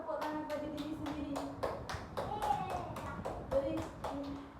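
Classroom of children clapping their hands together in quick rhythmic bursts, with voices audible alongside the steady patter of claps.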